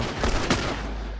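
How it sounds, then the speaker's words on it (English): Ellie fires her gun in The Last of Us: two quick, sharp shots close together within a second, over a steady low game rumble. "Ellie, good shot."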